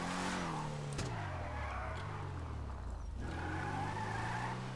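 A Vapid Peyote Gasser hot rod revs and accelerates on an airport runway in a racing video game, a loud close engine roar climbing through gear shifts with a brief tire screech, no talking.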